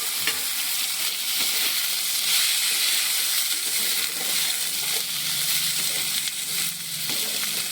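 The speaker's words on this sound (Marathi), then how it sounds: "गवारी पूर्ण आपण तेलामध्ये परतून घेऊया।" Cluster beans (guar) fry in oil with cooked-down tomato, a steady close sizzle with faint stirring scrapes running unbroken for several seconds, no voices.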